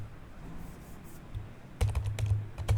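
Typing a command on a computer keyboard, with a quiet start and then a quick burst of close, crisp key clicks.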